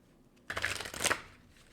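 Oracle color cards shuffled briefly at close range, a short papery riffle that rises suddenly and fades out within about a second.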